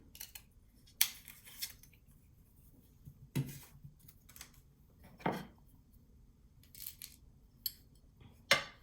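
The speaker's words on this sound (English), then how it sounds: "I'm just going to cut out like 2 of them" Scissors cutting small paper strips for glitter cluster clasps, a handful of sharp isolated snips spaced a second or two apart, close and fairly quiet, with no talk.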